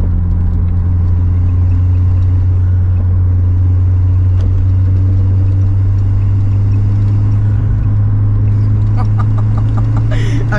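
A carbureted Volkswagen Golf 2 engine under acceleration, heard from inside the car as a loud, steady low drone with a rising roar, and faint voices in the background.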